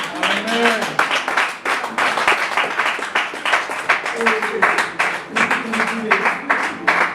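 A church congregation claps and cheers in acclaim during a pastor's sermon, loud rhythmic applause filling the whole stretch with raised voices and shouts mixed in.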